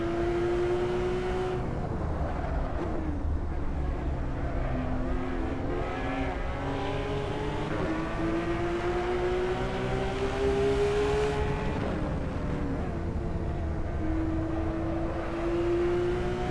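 A Porsche 911 GT3 RS engine in the racing game Assetto Corsa holds a steady, buzzing high-revving drone. Its pitch rises and dips gently as the car accelerates and eases through a track section, loud and continuous, with no voices.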